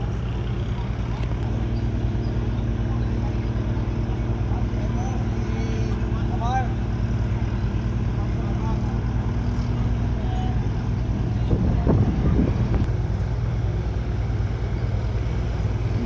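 A passenger ship departing on a voyage to Romblon, its engine a steady, loud low drone throughout, with a brief rumbling surge near the end and a person talking over it.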